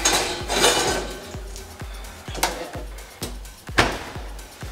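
Cast iron skillets being set one after another onto oven racks for seasoning, giving a series of sharp metallic clanks and thuds in a steady rhythm, close and fairly loud.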